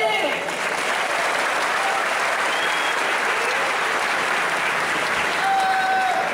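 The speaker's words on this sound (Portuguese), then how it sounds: "Uma salva de palmas para ele!" A large crowd applauds at Campus Party, the opening day of the 2015 tech event, dense and steady clapping filling the hall for several seconds, with a brief tonal whistle near the end.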